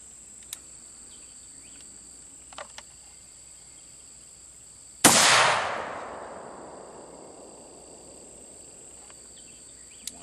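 A single sharp AR-15 rifle shot, fired from a rifle fitted with an ATI Omni Hybrid lower at a target, cracks loud and close, then rings out in a long fading tail over a steady high insect-like whine and a few faint clicks.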